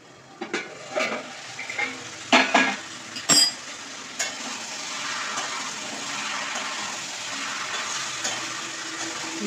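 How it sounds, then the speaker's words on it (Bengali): Young jackfruit curry is stirred in a pan, giving scattered scrapes and clatters of the spoon against the pan over a low, steady hiss of cooking. "ভালো করে নেড়ে চেড়ে জল দিয়ে দেবো।"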